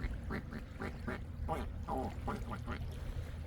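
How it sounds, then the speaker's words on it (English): A duck at a park quacks repeatedly in a rapid, steady series of nasal calls, close and loud throughout. "did you hear that duck?"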